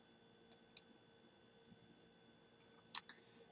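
A computer mouse gives a few faint, sparse clicks close by against a quiet background hum while someone works in TurboTax tax software.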